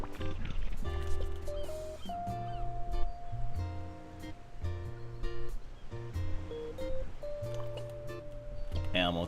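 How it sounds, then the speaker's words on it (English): Animal Crossing game audio plays at a beach scene with sun and waves: bouncy melodic tones and chirpy babble-like character voice blips over a soft music bed, steady and moderately quiet throughout. "Animal Crossing noises."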